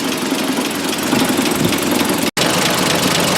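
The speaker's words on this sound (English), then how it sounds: "I think we'll let her idle here for a while" An old car engine idling steadily just after a cold start in a shed, a dense, continuous rumble with a rough, knocking texture, loud and close, with one brief dropout and no talking.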